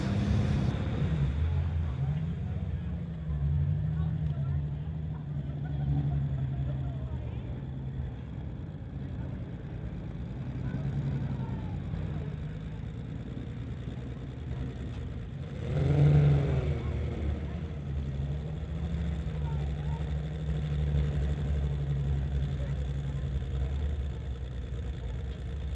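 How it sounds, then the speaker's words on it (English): A car with a 383 stroker engine does a burnout at a street-legal drag event, its engine roaring steadily from mid-distance and swelling briefly in a louder rev partway through. "Nice little burnout from Steve."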